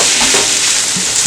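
Minced vegetables sizzle and crackle in a hot pan, a steady close frying hiss with faint stirring scrapes.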